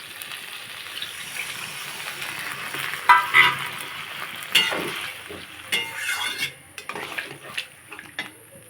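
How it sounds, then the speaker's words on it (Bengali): Water poured into a pan of frying eggplant and spices for a boal fish curry, with sizzling, a gushing splash and scraping, clanking stirring of a utensil against the pot, close and fairly loud. "ভালো করে বেগুন আর মশলা কষা হয়ে গেছে এখন জল দিয়ে দেবো পরিমাণ মতো"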